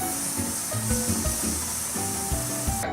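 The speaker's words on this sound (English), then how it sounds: "The vegetables are the fun part because they make weird hissing sound like." Vegetables sizzle and hiss in hot oil, a steady frying crackle with clattering pan noises and stirring throughout, fairly close.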